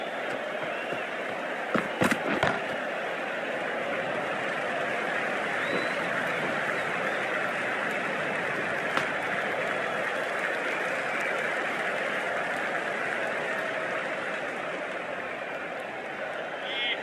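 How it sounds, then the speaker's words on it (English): Crowd applause at a cricket match between Welsh Fire and Sydney Sixers, a dense, sustained wash of clapping from a large stadium audience with a few louder sharp claps near the start. "Please give him a round of applause."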